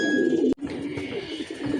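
A racing pigeon coos softly close by as it returns to its loft during a club tournament, with a short clatter partway through.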